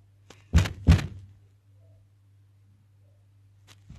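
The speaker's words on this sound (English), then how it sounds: "we heard, like, knocking" Knocking from inside a wall: two loud, close thuds in quick succession, then near silence over a low steady hum, with a faint knock near the end.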